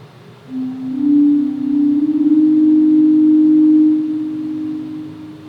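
A smooth, pure electronic tone emulating a pipe organ Bourdon 8 stop, one steady low note sustained for about five seconds with a slight wavering.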